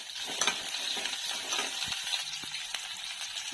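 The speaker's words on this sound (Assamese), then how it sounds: "এতিয়া পিঁয়াজ আৰু জ্বালা দিব লাগিব।" Onion and green chilli frying in hot oil in a wok, a steady close sizzle with light scraping and stirring clicks throughout, no voices.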